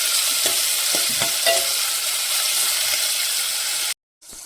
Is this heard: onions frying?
yes